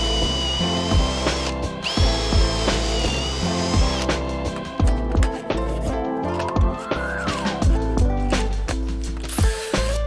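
A power drill bores pocket holes in wood for an outfeed assembly table in a workshop. Several short whirring bursts start and stop, heard under steady background music.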